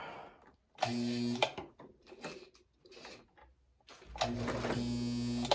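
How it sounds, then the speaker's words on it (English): A sewing machine stitching while its bobbin thread binds up, running in short uneven bursts with whirring mechanical chatter, pauses between runs, and a longer final run, close and fairly quiet. "My bobbin thread might have bound up again"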